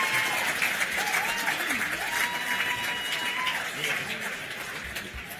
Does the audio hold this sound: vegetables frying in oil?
no